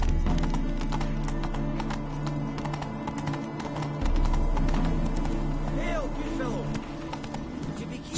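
Hoofbeats of the horse Roach galloping in The Witcher game, a steady rapid clip-clop running throughout over ambient game music and bird calls, with a brief whinny-like call near the end.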